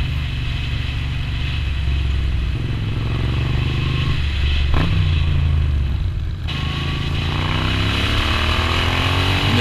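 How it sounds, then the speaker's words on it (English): A Moto Guzzi V9 Roamer motorcycle with an Agostini exhaust on a ride, its engine droning loud and steady up close, the pitch dipping and then climbing again as it accelerates. "it was a great opportunity to take the bike for a spin"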